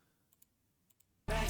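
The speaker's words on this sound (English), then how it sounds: "Why is my keyboard starting to mess up?" Computer keyboard keys give a few faint, sparse clicks in pairs, quickly drowned out by a sudden loud burst of music at the end.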